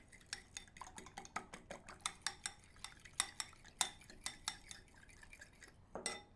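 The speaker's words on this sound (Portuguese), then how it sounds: "No recipiente com os ovos, vamos acrescentar o sal, a pimenta do reino e vamos mexer bem com garfo, até ficar bem uniforme." A fork whisks eggs with salt and black pepper in a bowl, striking the sides in a brisk, irregular run of close, clinking taps.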